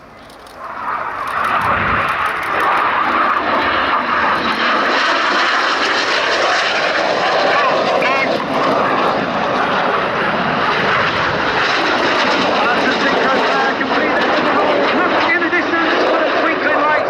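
Loud, sustained roar of Red Arrows jets performing synchro double rolls at the Cosford airshow, the engine noise swelling and shifting as the aircraft pass, with a commentator talking over the show.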